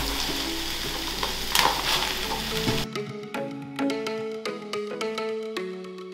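Green pepper, onion and spinach filling fries in a pan with a loud, steady sizzle for about three seconds before it cuts off and gives way to background music.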